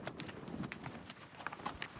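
Horse hooves clip-clop in a quick, irregular patter, faint and somewhat distant, with light background noise and no clear talk.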